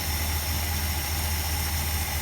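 A 1971 Plymouth Fury Gran Coupe with its original engine idles in a steady, even low rumble with a constant hum, no talking, close and continuous throughout.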